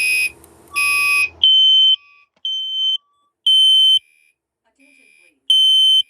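A building fire alarm sounds during a test: a loud, harsh buzzing burst followed by a series of piercing, evenly spaced high electronic beeps, each about half a second long with short gaps between them.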